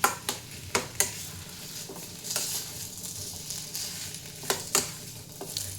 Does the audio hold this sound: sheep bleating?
no